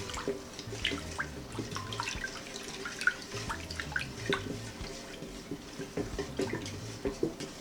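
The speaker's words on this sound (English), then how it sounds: "I'm gonna stir to get the sugar crystal dissolve in the sorrel." Sugar being stirred into a Jamaican sorrel drink made from dried sorrel: steady liquid swishing and sloshing with small drips and occasional light clinks, close and fairly quiet, with no talking.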